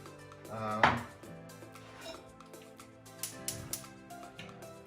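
Pieces of meat drop into a big cooking pot with one clear, fairly loud clunk, followed by softer knocks and rustles from handling in a quiet kitchen.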